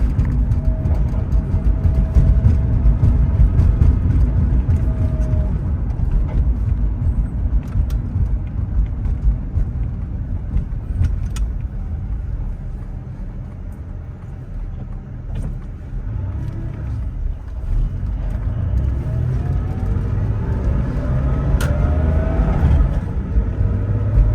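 A 1989 Porsche 911 Carrera with an air-cooled engine and a Getrag G50 five-speed, heard from inside while driving on the highway: a continuous gritty engine roar with road rumble that rises and eases as it goes through the gears.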